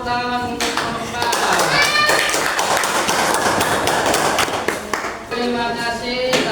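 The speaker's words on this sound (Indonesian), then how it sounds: "Tepuk tangan untuk kelompok 4." Students in a classroom clap for a presenting group. The sharp, close handclaps build after a brief voice, hold steady, then thin out as talking returns near the end.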